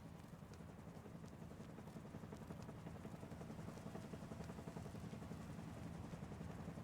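A helicopter's rotor and engine drone steadily at low volume in a horror video game, a continuous rumbling whir with no voices.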